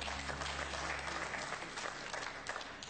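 Studio audience applause, a dense steady burst of clapping from a crowd that fills the whole stretch, loud and even, tapering slightly toward the end.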